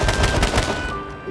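Pistol shots followed by AK rifle fire in the survival game H1Z1, a quick run of loud, close cracks packed into a second and a half, fading out at the end.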